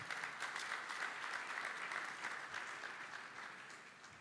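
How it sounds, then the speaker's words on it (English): An audience applauds in a steady, dense wash of clapping that fades slightly toward the end, with no voices over it. "A round of applause, please."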